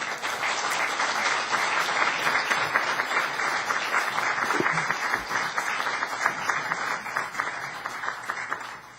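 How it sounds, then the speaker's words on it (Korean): Warm, sustained applause from a church congregation at a Sunday worship service, greeting a visiting pastor as he comes forward. The dense clapping holds steady and fairly loud through the whole stretch, with no talking. "우리 목사님 나오실 때 우리 뜨거운 박수로 환영해 주시기 바랍니다"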